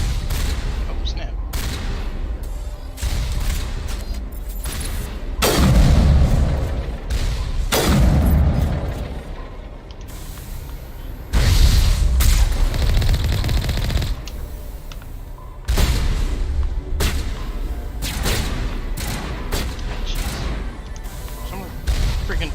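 Turrets firing in the Mass Effect video game, a sustained barrage of rapid shots and booming impacts that rise and fall in loud waves, with a voice talking over it.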